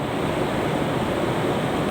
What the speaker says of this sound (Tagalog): sa laki at hampas ng mga alon na to